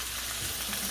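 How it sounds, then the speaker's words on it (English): Steak sizzles loudly in a hot pan for a Valentine's dinner, a dense, steady hiss of frying fat filling the moment close up, with no voices. "Look at that sizzle."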